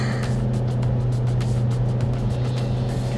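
Steady engine drone from a BYD Shark 6 pickup revving hard while towing up a steep hill, a constant low hum with road and wind noise around it, fairly quiet and without speech.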